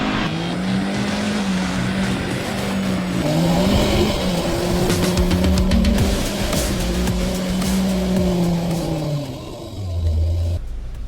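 A Suzuki Jimny engine revs hard off-road during a wheel spin, a loud, close drone rising and falling through several pitches over about ten seconds before easing off, with tyre noise underneath.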